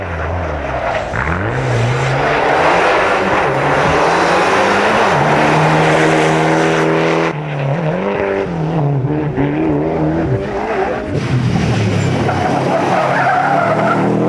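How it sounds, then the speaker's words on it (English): Group N Subaru Impreza and Mitsubishi rally cars race on a Manx International Rally stage, with engines revving loudly through rising and falling gear changes and tyres skidding, close and continuous with no talk. "Group N also has been an all-Japanese affair between the Subaru and the Mitsubishi, and Ollie Harkey will have to hurry"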